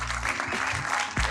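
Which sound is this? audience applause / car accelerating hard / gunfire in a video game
audience applause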